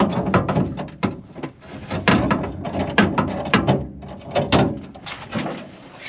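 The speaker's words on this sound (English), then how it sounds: "We're going to take the bolts out right there." A ratchet removes the trunk hinge bolts on a long-stored Pontiac Firebird, giving close, loud rapid clicking in uneven bursts with short pauses between strokes, and no voices.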